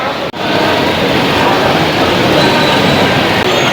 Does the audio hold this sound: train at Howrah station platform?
yes